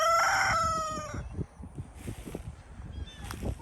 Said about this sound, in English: Chickens waiting on some water.